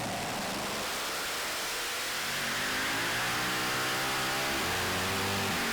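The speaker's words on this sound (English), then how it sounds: "This is the Intertechno Lambada. Again powered by 4 Brad Anderson supercharged V8s" Pulling machine powered by four supercharged V8 engines at a pulling finals competition, a loud, sustained engine roar that builds and climbs in pitch as the rig pulls, with no talk over it.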